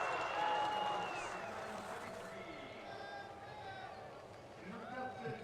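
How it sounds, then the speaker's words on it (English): Canadian supporters and athletes at a Paralympic women's slalom finish area cheering a skier down the course, a loud crowd roar that eases slightly and swells again, with a commentator talking over it. "The Canadian supporters, with some of the athletes that have already skied, cheering her down"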